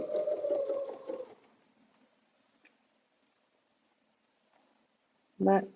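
A domestic sewing machine stitching quilting on a butterfly bed runner runs in a brief steady whir for just over a second, then falls nearly silent, with a short sharp burst near the end.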